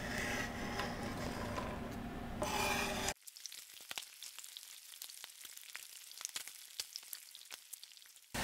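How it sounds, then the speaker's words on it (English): Onions sautéing in a hot pan, a broad sizzling hiss for about three seconds that cuts off abruptly, likely as a lid goes on, leaving faint scattered crackles and pops. "now that's sauteing a little bit"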